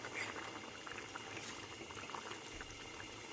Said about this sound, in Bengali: সবজি, ডাল এর ঝোলটা ফুটে উঠেছে